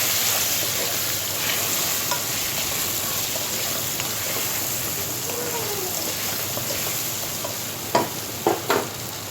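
Greens sizzle and fry steadily in a pan as turmeric powder is stirred through them, with a constant hiss and a few sharp scraping clicks near the end.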